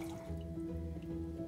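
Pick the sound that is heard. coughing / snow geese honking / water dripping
water dripping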